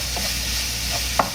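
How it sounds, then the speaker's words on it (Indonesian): Apples sautéed in oil in a pan over medium heat give a soft, steady sizzle, with a few light stirring scrapes and one sharper clink near the end, no talk. "Langsung saja apelnya dimasukkan. Ini ditumis dengan api yang sedang saja,"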